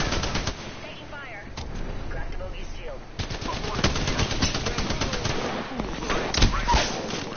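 Gunfire in a tournament video game match: loud, close bursts of rapid automatic fire with scattered single shots, recurring throughout amid the din of the fight.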